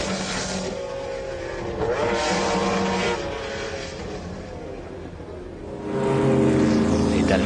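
McLaren race cars at the 1995 24 Hours of Le Mans pass with a sustained engine roar that swells and fades, climbing to a louder close pass near the end.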